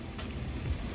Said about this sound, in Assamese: হায়দৰাবাদত চিপচিপীয়া বৰষুণ মিহি মিহি বতাহ